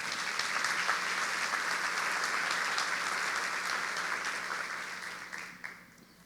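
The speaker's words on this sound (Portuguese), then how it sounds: "Se quiser aplaudir," A church congregation applauds during a sermon, steady broadband clapping at moderate volume that holds evenly and then tapers off near the end.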